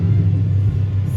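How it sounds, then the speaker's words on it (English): Loud cars rumble outside with a steady, deep low-end engine drone and a slight swell, heard alone without talk. "Excuse that noise, someone outside with them loud cars."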